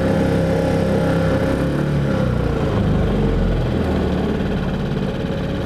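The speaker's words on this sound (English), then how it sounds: "I'm going to kill the engine in a minute." A fishing boat's engine idles in a steady, loud mid-low drone that holds unbroken throughout, with no voices over it.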